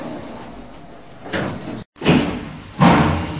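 Schindler 5500 elevator doors in a Roblox game slide shut with soft whooshing sweeps and a muffled thud, repeated twice with a brief silent cut between them over a steady hum.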